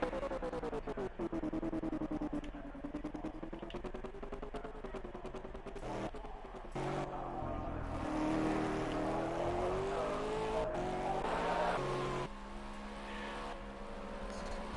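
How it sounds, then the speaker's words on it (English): A race car engine from a touring-car racing broadcast, its harmonic whine sweeping up and down through gear changes, loud and steady with brief drops, under faint commentary. "Audio sounds a little funny on that car."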